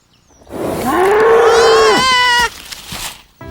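A cow on a farm gives one long, loud moo close by, rising, holding steady and then breaking off, with a short tail of noise after it.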